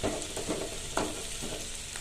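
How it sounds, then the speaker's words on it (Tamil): Fennel seeds and onions crackle in hot oil for channa butter masala, a soft, continuous sizzle with a few faint stirring scrapes. "சோம்பு கொஞ்சம் நல்லா பொரியட்டும்"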